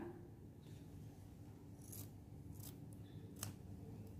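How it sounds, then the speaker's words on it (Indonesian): Scissors snip the end of a rubber balloon, a few faint, short crisp cuts spaced over a quiet hissing room background, close to the listener. "ambil balon, lalu gunting ujungnya"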